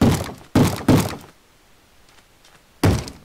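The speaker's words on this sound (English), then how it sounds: "Is he knocking on the door?" A zombie in Minecraft bangs on a wooden door: three quick, loud, hollow thumps, a pause of near silence, then one more thud, all up close.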